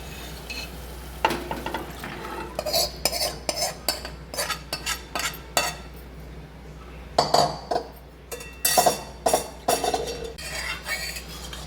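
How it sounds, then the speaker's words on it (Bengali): Moong dal with tomatoes stirred in a pan, with rhythmic scraping and clinking strokes of a spoon against metal over a soft sizzle, close-up and without speech. "সব কিছু ভালো করে মিশিয়ে দিচ্ছি।"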